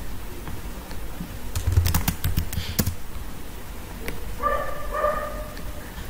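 A quick cluster of clicking keystrokes on a computer keyboard while entering a number into an Excel spreadsheet, followed by faint tonal noises under a steady background hiss.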